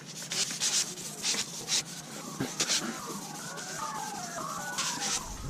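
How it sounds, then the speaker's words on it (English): Steady rubbing and scraping of sandpaper worked back and forth by hand over car paint on a 2002 BMW 540i (E39), close and continuous, with a few sharper strokes. "right now I'm going to go horizontal with the sanding"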